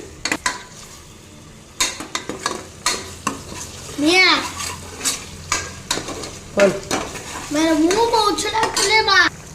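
Ginger garlic paste sautéing in oil for chicken leg dum biryani, with a spoon scraping and clanking the pot in bursts over a light sizzle; a voice talks between the strokes.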